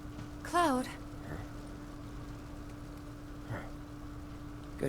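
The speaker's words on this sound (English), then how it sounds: "Good kitty. Good kitty." Cat in Final Fantasy VII Remake gives a single short, wavering meow early on, clear over a quiet hum, followed by faint soft taps and a brief click later.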